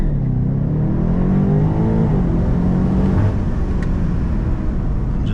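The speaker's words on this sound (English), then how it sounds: "smash the gas, launch control active." A BMW M8 Competition launching hard on launch control, a loud, steady engine roar with rising tone building as it accelerates, close and continuous with no talk.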